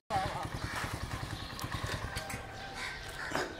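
A new motorcycle's engine idles close by with a steady, low, rapid pulsing throb, while people talk over it throughout.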